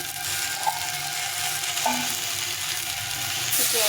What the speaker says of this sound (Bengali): দিয়ে জিরে গুঁড়ো লঙ্কা দিয়ে একটু কষিয়ে নিলাম ভালো করে